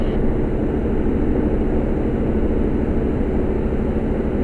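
A Van's RV-12 light aircraft's engine in flight, heard from inside the cabin as a loud, steady, unbroken drone and propeller roar that stays constant throughout, with no talking.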